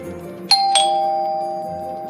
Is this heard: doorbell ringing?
yes